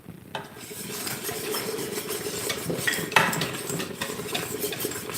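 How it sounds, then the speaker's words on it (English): Whisk clattering steadily against a pot while caramel with sea salt and vanilla is mixed, a continuous close metallic stirring rattle with a faint sizzle underneath and no speech. "Whisk that stuff right up in there."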